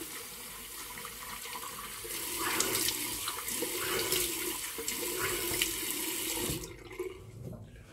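Tap water runs into a sink for several seconds as the face is rinsed before shaving with a straight razor, with splashing as hands scoop the water, then it stops abruptly.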